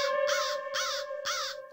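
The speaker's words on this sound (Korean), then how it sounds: "까마귀 날자. 까까." Three harsh crow caws come close and clear in an even rhythm, over a faint steady tone.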